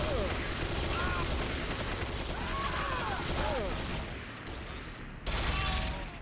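Pre-firing gunfire in the video game Command & Conquer: Renegade, a sustained burst of rapid shots and mechanical clatter that drops out briefly near the end and then resumes.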